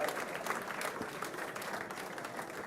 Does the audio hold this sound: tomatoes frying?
no